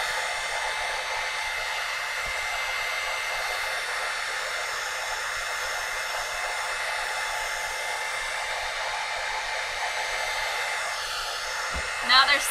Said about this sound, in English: So the hair dryer is very hot.